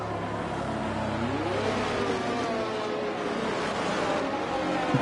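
Formula 1 cars from an F1 game circulating behind the safety car at Brazil, a steady engine drone with rising and falling pitch as cars pass, continuous and moderately loud with no talk.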